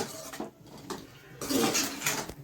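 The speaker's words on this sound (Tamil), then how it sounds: "நல்லா கிண்டி விட்டாச்சு" A spoon stirs prawn and dried fish curry in a metal pot, making close, short scrapes and light clanks against the pot's sides. The stirring is brief and uneven, with no talking.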